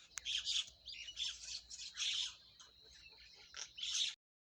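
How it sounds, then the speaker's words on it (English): A myna bird calls in a string of harsh squawks and chattering notes with a whistled tone running through them, close and clear against a quiet background before cutting off. "a myna, a bird that sings in a sweet voice"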